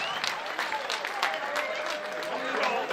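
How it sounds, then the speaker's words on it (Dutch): Clapping from the audience for the organisers of the Wetering tournament at its final and prize ceremony, a fairly soft, steady patter with individual claps poking through and some voices and tonal sounds mixed in. "Dus mag ik alsjeblieft een welgemeend applaus voor de organisatie van het Wetering-toernooi"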